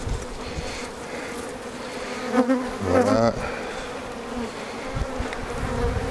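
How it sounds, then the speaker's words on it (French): Dense, steady hum of many honeybees buzzing close by on a frame full of bees pulled from a hive, continuous throughout, with a brief spoken word in French partway through. "Ici on a un cadre qui est rempli d'abeilles"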